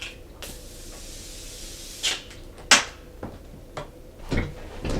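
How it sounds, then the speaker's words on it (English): Several short, sharp hissing bursts of a Morphe Continuous Setting Mist spray bottle misting, spaced irregularly over quiet room noise. "I'm going to grab Morphe's Continuous Setting Mist and spray that on."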